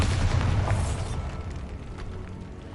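Bombarda, the explosion spell in the video game Hogwarts Legacy, goes off as a loud, close blast with a deep rumbling boom that slowly fades over a couple of seconds.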